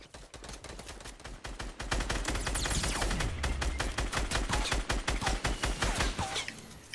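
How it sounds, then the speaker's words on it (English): Sustained automatic gunfire in Fortnite rakes the base of a tower: dense, rapid, evenly spaced shots ring out loudly for several seconds with barely a pause. "Just shoot the tower. Shoot the base of it."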